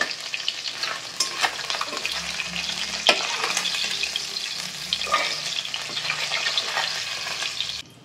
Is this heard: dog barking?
no